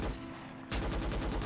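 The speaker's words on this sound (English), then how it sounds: "So if you shoot backwards, you can actually shoot through the railing here." Rapid automatic gunfire in Starship Troopers Extermination, fired from a defensive base position backwards through a railing: a steady, loud stream of evenly spaced shots that starts abruptly after a short lull, with no talk over it.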